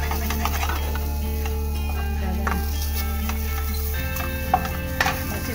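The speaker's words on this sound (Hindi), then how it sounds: "अब इसमें हम किशमिश करेंगे ड्राई रोस्ट" Raisins dry roasting in a hot pan while being stirred, giving soft continuous scraping and light sizzling over a steady low hum, with a few sharper clinks near the end.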